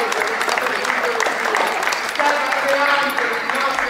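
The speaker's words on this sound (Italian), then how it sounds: "per i quali vi chiedo ancora un applauso" Steady applause from an audience at a closing presentation, dense continuous clapping with voices mixed in, fairly loud and close throughout.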